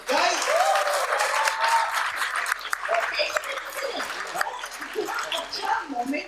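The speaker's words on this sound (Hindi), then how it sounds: "यार एक बार जोरदार तालियां इन जोड़ियों को।" A studio audience at a television couples' game-show grand finale breaks into loud, sustained applause, many hands clapping in a dense, continuous wash, with cheers, laughter and voices mixed in throughout.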